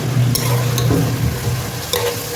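Ginger garlic paste sautés in a pan for beef dum biryani, with steady sizzling and frying close up and a few scraping stirs of a spoon against the pan.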